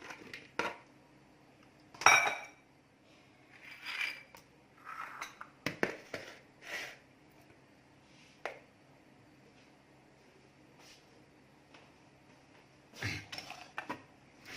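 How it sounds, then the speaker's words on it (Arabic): Olives are poured into a dish, producing scattered clinks and soft clatters in a few bursts with quiet gaps between, close and fairly faint, with no talk. "بنفس الطريقه غادي نكبو هنا الزيتون ديالنا"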